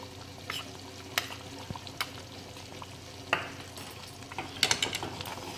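Zunka being stirred in a pan as more flour goes in, with soft scraping and faint sizzling running steadily throughout and a few sharper clicks of the spoon against the pan.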